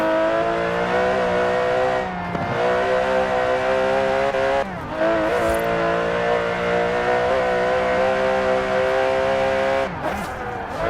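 Aston Martin DB11 engine in Forza Horizon 4, a steady, loud revving drone with layered harmonics, briefly dipping around gear changes and swelling again, sustained throughout with no talk.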